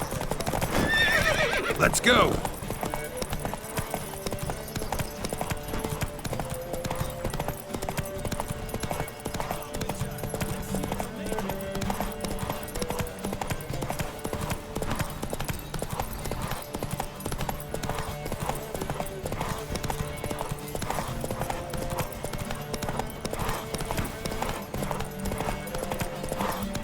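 Horse hooves gallop in a rapid, continuous rhythm through a race in The Witcher 3, joined by a whinny early on, game music and occasional spoken lines.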